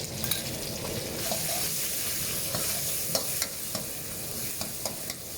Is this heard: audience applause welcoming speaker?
no